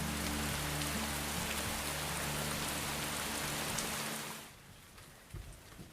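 Steady rain falls on a grassy savanna in the rainy season, a dense continuous hiss with low rumble that thins out abruptly after about four seconds, leaving quieter patter.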